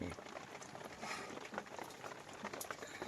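A pot of rice boiling, a steady bubbling and soft pattering hiss that holds at a low, even level throughout with no talk.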